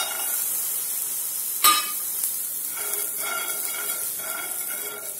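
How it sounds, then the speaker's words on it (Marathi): Peanuts roast in a pan and are stirred, a soft continuous dry sizzle with a single sharp clink of the utensil against the pan and light rhythmic scraping through the latter half. "इथे एका पॅनमध्ये मी हे शेंगदाणे भाजून घेऊ."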